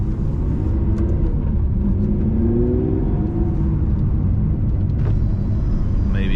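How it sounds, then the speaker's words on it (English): A Lamborghini Aventador SVJ with a 770 hp V12 drives on a road toward mountains, its engine a loud, steady low rumble with a slight rising whir, heard from inside the car. "Listen to a bit of that V12."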